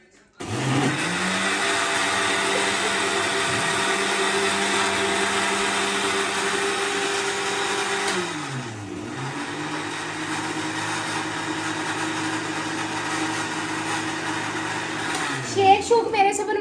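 A kitchen blender whirs loudly and steadily while blending a strawberry shake, its motor pitch dipping briefly midway before spinning back up and then cutting off near the end.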